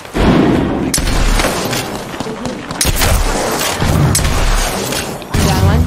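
Loud, booming video-game gunfire aimed at an enemy, heavy repeated shots and impacts filling the whole stretch while players talk over it.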